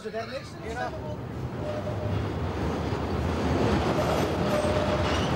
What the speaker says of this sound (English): It's the train. A little bit of the CTA here coming in first before we hear Studs.